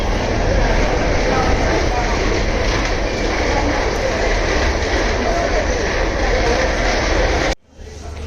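Dense, continuous hubbub of a crowded railway platform: overlapping voices, footsteps and rumbling machinery, holding steady until an abrupt break near the end.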